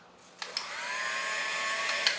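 An electric hand mixer whirs steadily while beating batter in a home kitchen, its pitched motor hum starting up with a couple of light clicks against the bowl, close and without talk.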